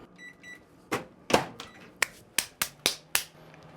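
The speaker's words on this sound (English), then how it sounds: "Throwing these into the microwave." A microwave oven gives two short electronic beeps, followed by a quick series of sharp clicks like buttons being pressed, close and fairly quiet in a kitchen.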